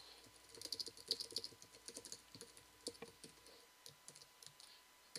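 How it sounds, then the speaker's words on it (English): Keys clatter on a Mac computer keyboard as a shortcut is typed, a quiet, steady run of close, crisp clicks and taps with no voices. "I type the keyboard shortcut for WriteRoom and begin editing my email."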